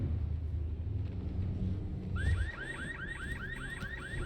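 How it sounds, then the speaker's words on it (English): A car alarm in the video game Bloodhunt starts up partway through and repeats a fast rising whoop pattern over low rumbling game ambience, loud and nearby. "car alarm, I know"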